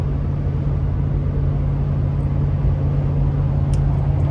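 A Lexus GX470 on a cheap exhaust setup cruises steadily on the freeway, giving a low, constant droning rumble with road noise, unchanging and fairly loud from inside the cabin.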